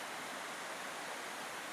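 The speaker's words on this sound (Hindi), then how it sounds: "पथरीली चट्टानों से झरझर कल कल करता हुआ पतनारी नदी का जल" Patanari river water rushing over rocky stones near Rewa, Madhya Pradesh, a steady broadband gurgling wash heard close and alone for under two seconds.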